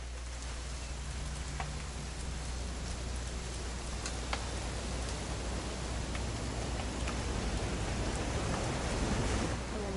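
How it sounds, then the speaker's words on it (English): Steady rain in the video game What Remains of Edith Finch, a dense continuous hiss of falling water with a low rumble beneath, constant throughout with no speech. "It's gonna rain the whole weekend,"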